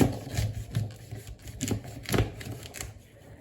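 Knife trimming the ends of green asparagus on a board, a few soft dull cuts and taps at irregular intervals, close and fairly quiet.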